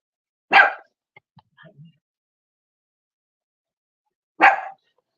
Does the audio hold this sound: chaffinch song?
no